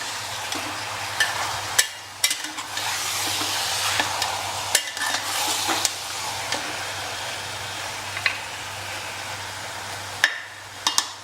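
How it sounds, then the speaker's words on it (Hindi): Mutton and red chillies stirred in a pan for a Rajasthani curry, a steady scraping sizzle with repeated sharp spoon clanks against the metal and a low hum underneath. "ये हमने बढ़िया मिक्स कर दिया है मटन को और मिर्चियों को।"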